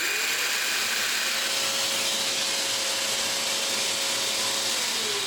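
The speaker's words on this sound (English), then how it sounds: "once I get it on, I can actually push my Bluetooth button on my extractor" A Festool dust extractor runs steadily and close, a loud continuous whoosh with a faint thin whine, in a workshop where it is being paired with a Festool Carvex 18V cordless jigsaw.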